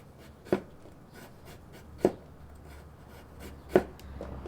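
Kitchen knife cutting a carrot into thin slices on a board, three crisp isolated chops spaced about a second and a half apart, close and fairly quiet.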